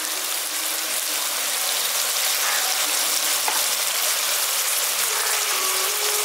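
Spices and potatoes fry steadily in a pan for a peas and potato curry, a close, continuous sizzle with soft stirring scrapes throughout.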